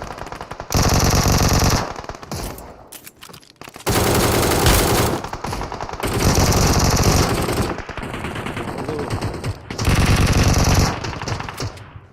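Vector submachine gun fire in a battle-royale shooter game, loud sustained automatic bursts roughly every two to three seconds with brief gaps between, close and dominant with no talking.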